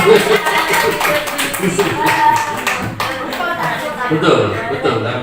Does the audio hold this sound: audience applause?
yes